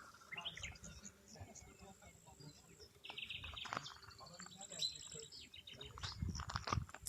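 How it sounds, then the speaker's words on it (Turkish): Faint birds chirp and sing in short bursts in a wooded village setting, mixed with rustling and quiet background noise. "Ağaçlıklar ve çok güzel de kuş sesleri var."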